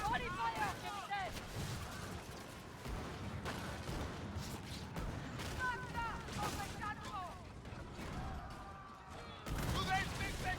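Ship cannons in the naval game Skull and Bones fire in heavy, rumbling booms over a continuous battle din, while voices shout and talk throughout.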